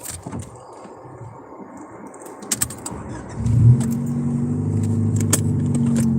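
An old car parked on the street is started for a drive to storage, the engine catching after a few clicks and jingles and settling into a steady, fairly loud idle that continues to the end.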